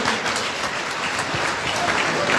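Audience applause at a formal government launch ceremony, steady and moderately loud clapping filling the whole short stretch with no clear talk over it.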